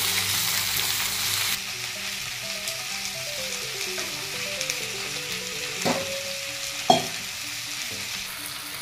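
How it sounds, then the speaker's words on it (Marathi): Tomatoes frying in a pan for khichdi pulao, a steady sizzle with occasional stirring knocks, a sharper clank near the end, and faint background music. "आता टमाटे टाकून घेऊया।"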